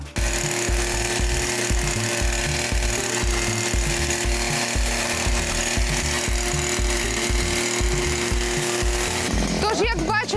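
A loud motorized string trimmer whirs steadily and close, its engine buzzing continuously with a rough, chattering rhythm as it cuts.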